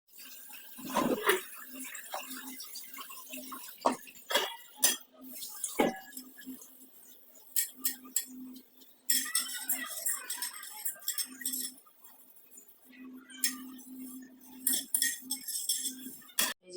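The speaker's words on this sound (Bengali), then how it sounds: "খাওয়ার বাসন মাজবো" Dishes being washed after a meal in a home kitchen: scattered clinks of plates, cutlery and pots under running water, irregular and close, with gaps between clusters of knocks.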